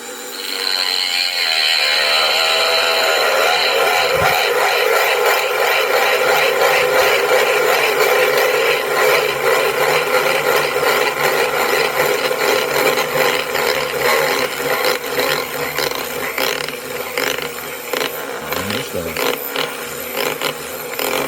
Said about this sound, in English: Dremel time, baby.